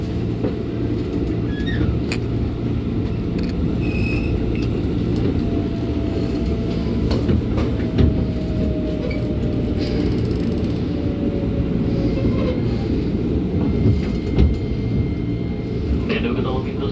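A train rumbles steadily through Tanah Abang Station, a dense low roar with faint tonal whines and scattered clanks, while voices talk over it throughout.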